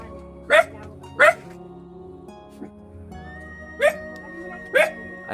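A dog barks in short, sharp bursts, four or five loud barks spaced irregularly at close range, while a person talks in Filipino around a house with wet ground.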